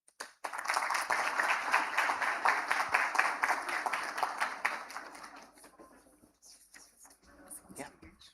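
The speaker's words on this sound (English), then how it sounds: "Can we have a big round of applause, ladies and gentlemen?" A conference audience claps for a speaker in a dense, even burst of applause that fades after about four seconds, leaving quieter scattered sounds and murmurs.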